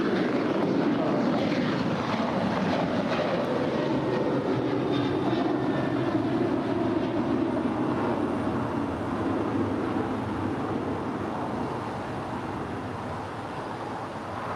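An Air Canada airliner takes off from runway 25 right at LAX, its engine roar broad and steady for the whole stretch, gradually easing slightly as it draws away.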